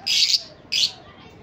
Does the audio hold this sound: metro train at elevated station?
no